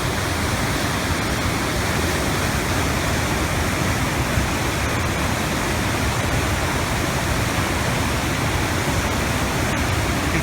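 Fast, powerful water rushing through Devil's Hole on a day hike, a loud, steady broadband roar that fills the whole clip without a break.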